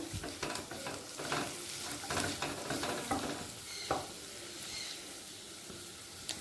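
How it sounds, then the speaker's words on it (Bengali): Small cubes of paneer and capsicum stir-fry together in a pan, a soft sizzle broken by repeated scraping and clinking spatula strokes in an uneven rhythm. "পনির ক্যাপসিকামটা একই সাথে দিয়ে একবার নরম করে নেব"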